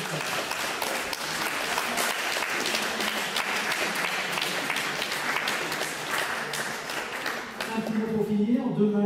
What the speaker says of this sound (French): on va particulièrement applaudir Jean-François Ferrand.